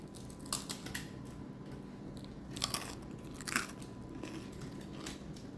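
Freshly baked crusty bread has its crunchy crust bitten close up, giving several sharp, crackling crunches spaced a second or so apart, with soft chewing between them.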